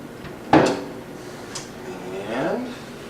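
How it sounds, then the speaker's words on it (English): A kitchen garbage trap door in a house with red oak cabinets gives a sharp knock as it is opened, followed by softer scraping and a sliding, swinging sound as it closes, close by with faint talk around it. "Here's that garbage trap door that I told you about"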